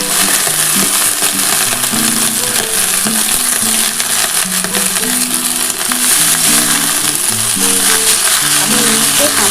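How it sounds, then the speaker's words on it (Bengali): Helencha greens dropped into hot oil with fried onion, black cumin and dried chilli, giving a steady, loud hiss and crackle throughout, mixed with tuneful background music. "এবার আমি কিন্তু এই হেলেঞ্চের শাকটা দিয়ে দিই।"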